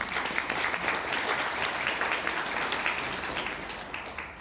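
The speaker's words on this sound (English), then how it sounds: "give yourself a big round of applause." Conference attendees at a suicide prevention event applaud themselves with a full, sustained round of clapping, a thick, even rush of many hands heard from within the hall.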